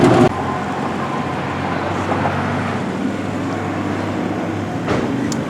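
A car engine idles steadily after a repair, a constant low hum with faint rattling and background road noise, running alone throughout.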